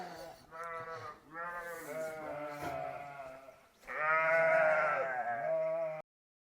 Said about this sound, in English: now the sheep are back indoors, so I'm not going to get interrupted again